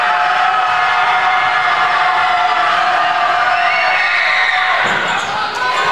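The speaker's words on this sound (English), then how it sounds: "You probably heard the band and the students cheering there, trying to distract the Lady Wolverines at the free throw line" At a high school girls' basketball game between Riverton and Cheyenne South, a school band blares sustained brassy notes while the student crowd cheers loudly during a free throw, the noise steady before dipping briefly near the end.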